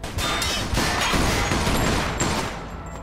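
Rapid bursts of gunfire in the video game Mafia II crackle continuously, loud and dense, with sharp cracks and clattering impacts blending into a sustained barrage.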